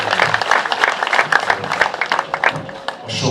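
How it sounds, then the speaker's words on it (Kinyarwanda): A church congregation at a choir gathering breaks into steady applause, a dense, even wash of clapping filling the hall at close range for several seconds before tapering slightly. "Reka tubakomere amashyi."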